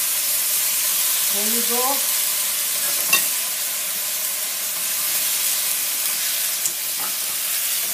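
Chicken steak sizzles steadily in olive oil in a pan, a constant close frying hiss with a few soft clinks while a voice speaks briefly.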